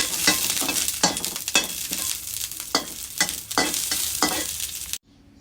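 Ingredients for red ant egg larb fry and sizzle in a pan while being stirred, with a steady hiss broken by rhythmic scraping strokes close by, ending abruptly in near silence.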